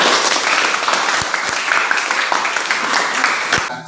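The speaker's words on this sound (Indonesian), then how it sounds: "Iya, bagus, tepuk tangan" Students in a history classroom break into steady applause, a dense wash of clapping hands that holds loud and even throughout, with a faint voice or two underneath.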